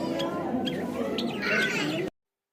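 Birds chirping and calling in the open air at a large North Indian wedding venue, a scatter of short tweets heard over a steady background murmur of the crowd.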